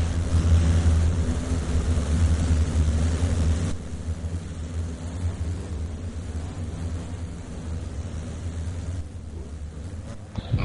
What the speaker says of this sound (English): Mitch Keys sitting in third spot as lap cars are just in the way